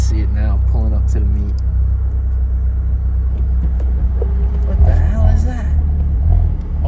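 Tuned Abarth 124 Spider turbo rumbling from inside the cabin while driving, a deep steady exhaust drone under people talking throughout.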